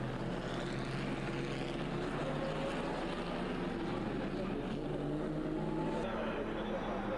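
A pre-1947 Alfa Romeo P3 racing car engine running through a historic Grand Prix practice at Monaco, a steady loud droning roar with strong harmonics that holds for several seconds amid crowd and circuit noise.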